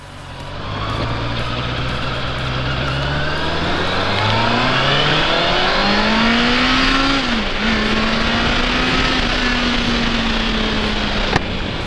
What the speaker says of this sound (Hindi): रेव करेंगे तो ऑब्वियसली वाइब्रेट करेगा। एक इनलाइन 4 इंजन है